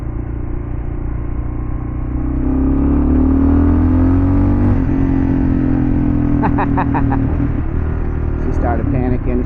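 A Kawasaki KLR650 dual-sport motorcycle carrying two riders rumbles loud and close, its engine rising as it is given gas and accelerates on an open road, with a rider talking over the steady roar.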